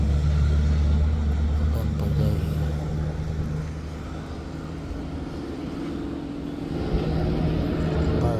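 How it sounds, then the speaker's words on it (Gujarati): A vehicle passes near a deep quarry where dumpers load material, making a continuous low engine rumble that dips slightly midway and swells again toward the end. "એક ગાડી જાય."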